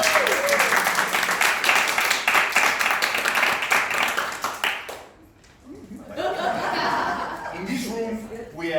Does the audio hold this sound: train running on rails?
no